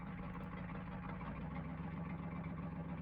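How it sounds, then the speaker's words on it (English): Steady low rumble of a truck engine, continuous and moderately loud with no clear rise or fall, heard alone without talk. "a moving truck entering the deserted sea of pavement"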